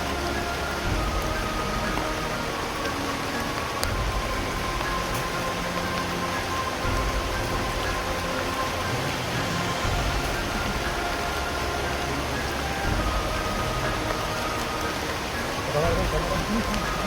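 Rain falls steadily as a dense, even hiss, with no pause and no change in strength throughout.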